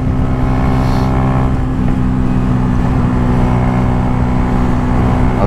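A Yamaha R125 motorcycle cruising fast in sixth gear on a highway, a loud constant engine drone with steady pitch and heavy wind noise throughout.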